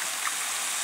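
Stock poured from a measuring cup into a stew pot for pork shoulder stew, a brief steady liquid trickle heard up close with no talking.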